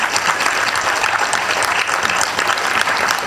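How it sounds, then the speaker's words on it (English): An audience at a hospital celebration ceremony applauds in honour of the medical staff, producing a loud, sustained, even roar of clapping without speech. "I want you to clap for ourselves and these men and women."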